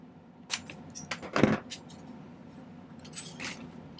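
Silver earring hoops are snipped with metal cutters at a jeweler's bench, giving a sharp metallic click near the start and a louder clipped snap mid-clip, with faint clinks afterward and no talk.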